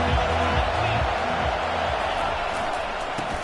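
Football stadium crowd roars in a steady, loud wash of cheering and yelling that fills the space, with a commentator's voice speaking over it.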